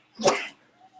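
A single short sneeze, sharp and close, followed by quiet.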